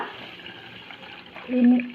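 Soaked grains for dosa batter are rinsed in a bowl of water, a short soft sloshing with a brief louder splash near the end, close by.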